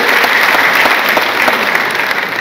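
Steady, loud applause from an audience at an international diaspora forum speech, dense clapping filling the whole stretch without a break.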